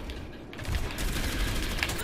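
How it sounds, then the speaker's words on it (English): Orisa's gun in Overwatch fires steady rapid automatic bursts, loud and close, with a commentator talking over the shooting. "I keep firing at the damn Symmetra"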